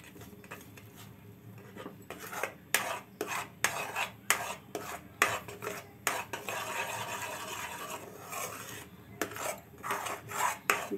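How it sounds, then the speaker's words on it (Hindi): A spoon repeatedly scrapes and clinks against a pan on a low gas flame as peda mixture for Diwali sweets is stirred, made without sugar syrup or milk powder; the strokes are close, rhythmic and steady, with no talking. "ये देखिए, इस तरह चला चला के तैयार करेंगे, बना लेंगे।"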